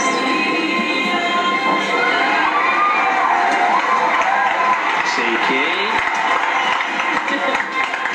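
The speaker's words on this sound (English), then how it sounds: "a big round of applause, please" A packed audience at a Miss India UK 2001 award ceremony claps and cheers for award winners, a dense, steady roar of applause with shouts and whoops that stays loud from start to finish.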